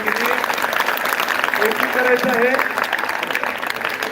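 At a school Constitution Day event, an audience claps while a voice speaks over the noise, making a dense, busy patter that continues at an even level.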